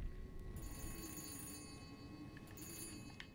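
A telephone rings in the Italian horror game Saturnalia, with repeated bright bell trills over a low rumbling backdrop, the rings coming in short bursts.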